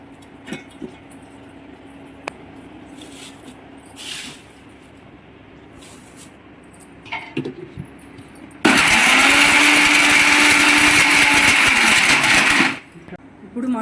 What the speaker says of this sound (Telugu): ఫస్ట్ మిరపకాయలు వేసి కోర్సుగా మిక్సీకి పట్టాలి.